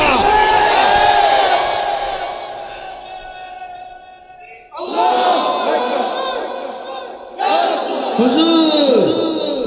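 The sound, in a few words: crowd chanting a religious slogan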